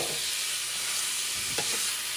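Ground meat sizzles steadily in a pan over medium-high heat while a utensil stirs and scrapes through it, with a couple of brief scraping strokes near the end.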